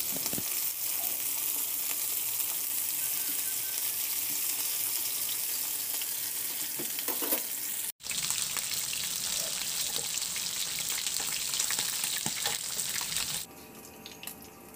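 Chicken wings frying in oil in a pan, a steady, bright, close sizzle and crackle that continues unbroken apart from a momentary cut, softening slightly near the end.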